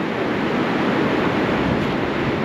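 Ocean waves rolling onto the shore at Cherry Beach make a steady, loud broadband roar mixed with wind buffeting the microphone, continuous throughout with no voices.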